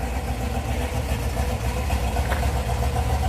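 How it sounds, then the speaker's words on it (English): A 1967 Pontiac Firebird convertible's 350 V8 idling nearby, a steady low exhaust rumble with a slight uneven pulse throughout. "Great sounding car, nothing crazy on the exhaust, just a little rumble"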